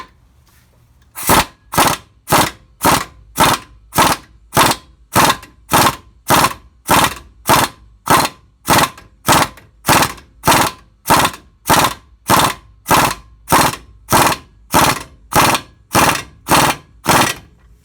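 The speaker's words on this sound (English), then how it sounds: "Once it bottoms out, you can hear the difference in the sound." Impact tool driving a part into a 4x4 Ford Ranger front end during a rebuild, loud evenly spaced hammering bursts repeating about twenty times, up close and alone.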